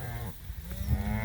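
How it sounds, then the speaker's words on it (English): Young beef calves mooing out in a clover pasture, a low, drawn-out bovine call that rises and holds steady, close and clear with no talking over it. "Look at these little calves."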